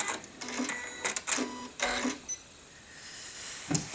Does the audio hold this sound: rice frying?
no